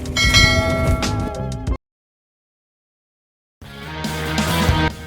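A bright, ringing bell chime with sustained tones, followed by a gap of silence and then another loud burst of chiming bells.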